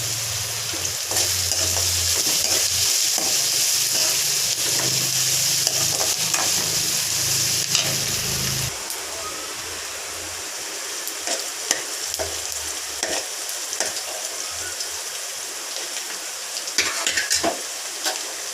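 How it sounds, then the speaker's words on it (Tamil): Golden-fried onions and curry leaves sizzle loudly and steadily in a pan, with scraping stirs and clinks throughout. The sizzle drops to a lower level about halfway through. "வெங்காயம் நல்லா பொன் வறுவலாக வறுத்தோம். கருவேப்பிலை,"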